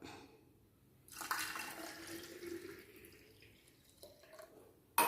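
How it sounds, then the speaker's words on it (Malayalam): Water pours into a dish wash ant spray mixture in a container: a steady splashing gush begins after a quiet second, runs for about three seconds, then trickles off near and clear. "ഇനി കുറച്ച് വെള്ളം ഒഴിച്ചു കൊടുക്കാം."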